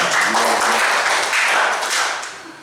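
Applause from guests at a church wedding blessing, a dense wash of many hands clapping that holds steady for about two seconds and then thins out toward the end.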